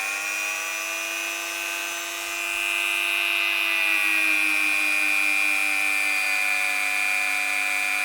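Dremel rotary tool whining at high speed against model train wheels, a sustained loud buzzing tone that dips briefly then steadies and holds, close up with no talk.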